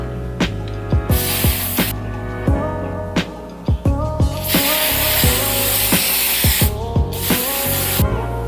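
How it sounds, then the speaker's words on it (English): ISO Plus Extra Virgin Olive Oil Sheen Spray mists onto locs in three loud, close hissing bursts, the longest lasting about two seconds, over steady background music. "It's called the ISO Plus Extra Virgin Olive Oil Sheen Spray."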